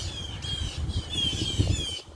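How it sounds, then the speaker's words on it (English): Agitated birds squawk and chatter in the countryside after a cat has killed one of them, a busy stretch of harsh, overlapping high calls over steady outdoor background noise, with no talking. "as you can hear, the other birds are pissed off about it"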